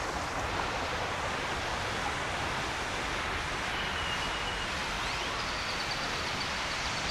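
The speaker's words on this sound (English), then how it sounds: "And of course the waterfalls." Waterfalls in a shaded park in downtown San Antonio, Texas, make a faint, even, continuous wash of falling water heard from some distance, with no voices.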